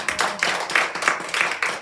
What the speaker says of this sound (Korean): 먼저 우리 찬양팀 박수요